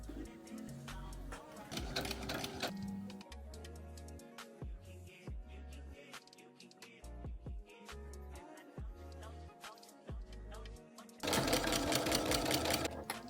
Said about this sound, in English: I finally just got done quilting my outer fabric.